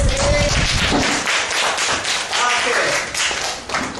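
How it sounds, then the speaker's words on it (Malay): Classroom applause for a student during a micro-teaching lesson: a dense, steady patter of many hands clapping close by, continuing throughout and tapering slightly near the end. "Tepuk tangan untuk dia."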